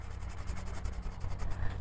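Colored pencils scratch across paper in quick, close, rhythmic strokes, a soft continuous rubbing texture with no voices.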